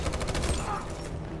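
Rapid bursts of gunfire fill a battle scene in the video game Detroit: Become Human, loud and continuous with layered shots and a faint voice underneath.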